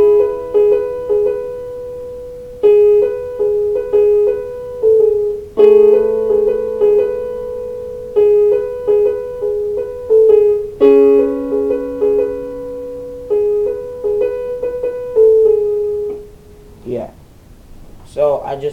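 A piano plays the melody of a pop song in a tutorial, with phrases of single notes and small chords, each attack decaying and separated by short pauses, the sound close and clear, then a brief faint rustle at the end.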